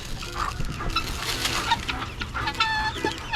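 Guinea fowl and chickens call together on a farm during early-morning feeding: overlapping clucks and chattering, nearby and steady with no talking.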